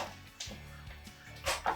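A dog barks angrily indoors at home with nobody else in the house, giving a few short, sharp barks at moderate level, the loudest ones bunched near the end.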